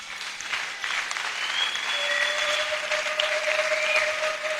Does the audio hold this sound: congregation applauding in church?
yes